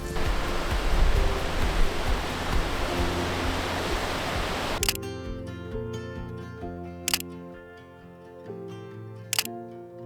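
Rushing water of Rock Creek pours steadily as a broad, loud wash for about half the stretch, then drops away to a quieter tonal hum broken by a few sharp clicks.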